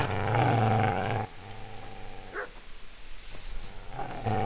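A dog growls low and loud in the video game Kingdom Come: Deliverance, then gives rough, short snarls and barks at moderate volume before a final growl.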